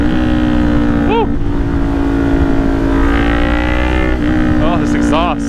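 Kawasaki Ninja 400 motorcycle exhaust while riding with the visor cracked open, a steady loud engine drone with wind rush throughout, punctuated by a few brief revving rises.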